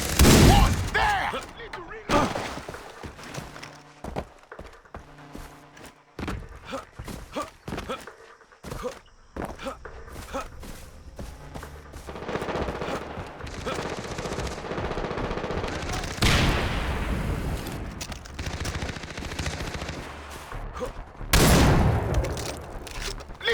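Shotgun blasts and bursts of gunfire ring out in a Far Cry 3 multiplayer match, loud shots spread irregularly among quieter gaps, with distant booms, footsteps and a player's voice talking at times.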